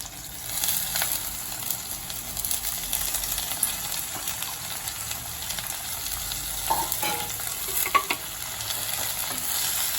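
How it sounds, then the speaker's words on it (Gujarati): Spinach and potatoes sautéing for aalu palak shaak, a soft steady sizzle in the pan with scattered scraping stir noises over it, fairly quiet, no talk. "અને એને પણ આપણે સાતળી લઈશું।"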